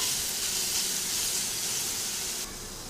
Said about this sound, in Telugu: క్యారెట్ ఒక నిమిషం 2 నిమిషాలు వేగితే సరిపోతుంది.